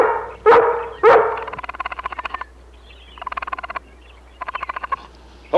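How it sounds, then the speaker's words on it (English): A dog barks twice loudly and close by, and then rapid croaking trills from frogs pulse in several bursts around it. "Hold that dog back, boy."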